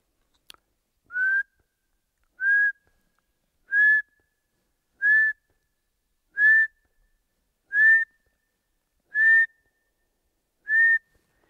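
A person whistles an imitation of the Eurasian pygmy owl's song: eight short, clear, identical notes evenly spaced about every 1.3 seconds over near silence, after a faint click.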